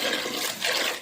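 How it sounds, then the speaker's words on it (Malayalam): Water pouring into a cooker in a kitchen, a steady splashing gush lasting about a second, moderately loud with no talk. "നമ്മൾ ഈ കുക്കറിലേക്ക് വെള്ളം ഒഴിക്കാൻ പോകുന്നു"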